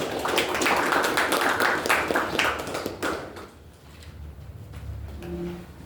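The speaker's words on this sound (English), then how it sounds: "Let's give a round of applause to our team." A Toastmasters club meeting audience breaks into applause for its team, a dense patter of many hands for about three seconds that quickly dies away into near quiet with a few faint stray sounds.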